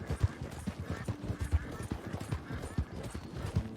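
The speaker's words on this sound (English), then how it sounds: "This Nakota, the horse behind me" A Nakota horse in Red Dead Redemption 2 clip-clops at a steady walk, its faint, rhythmic hoofbeats close and quiet.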